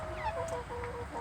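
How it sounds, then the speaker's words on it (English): Small game hens, miniature chickens, make soft clucks and chirps close by in a short, busy burst of farmyard fowl sounds. "They fly like little doves, but they're actually chickens."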